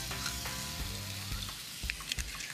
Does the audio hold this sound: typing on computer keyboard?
no